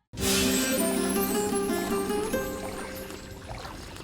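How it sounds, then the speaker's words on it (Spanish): Magical chime jingle that plays when the prince drinks water in the Prince of Persia Sands of Time trilogy, a bright shimmering tonal swell that rings out alone and slowly fades over several seconds. "no podemos olvidar el archi recontra conocido jingle de cuando tomamos agua"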